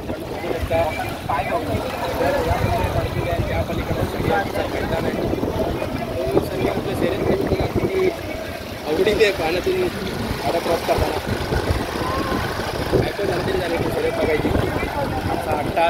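A vehicle driving through river water at a crowded bullock-cart race site, a continuous churning wash and engine rumble close by, heard under talk.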